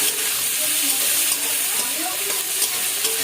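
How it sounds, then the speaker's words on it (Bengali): Chopped onion sizzling in hot oil with bay leaf, whole garam masala and cumin for a Bengali prawn malai curry, a loud steady frying hiss that runs unbroken throughout. "তারপর দিয়ে দেবো পেঁয়াজ কুচি দিয়ে দেবো"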